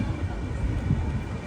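An Intercity Express train arriving at platform 3 of Jamnagar railway station, heard as a steady low rumble of rolling wagons that holds at an even level through the short stretch, close by, with faint voices in the background.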